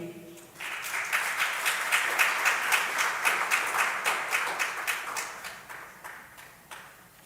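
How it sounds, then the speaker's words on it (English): An audience claps after a speech at a Nigerian gender programme launch, with dense, even applause that rises quickly, holds steady and then thins out toward the end, with no speech over it. "please give her another round of applause"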